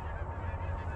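Geese honking during a goose hunt, a brief burst of overlapping nasal honks from a flock, fairly close and loud, with no talk.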